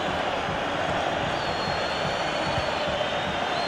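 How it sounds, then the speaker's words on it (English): A stadium crowd in EA Sports FC 24 during a Real Madrid v FC Barcelona Champions League final match, a dense, steady roar of many voices with no distinct cheers standing out. "The crowd encouraging him to take it on and begging to be put away"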